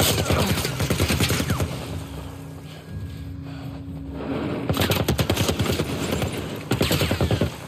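Gunfire in the video game The Last of Us Part 1, rapid bursts of loud shots in quick succession, with a brief lull in the middle before more volleys.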